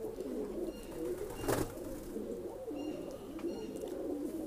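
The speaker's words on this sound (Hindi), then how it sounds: "तो ये आ गए बाहर ललसरे कबूतर" Lalsare pigeons coo in a low, continuous burbling close by, with a brief louder flutter or knock near the middle and faint higher chirps over the steady murmur.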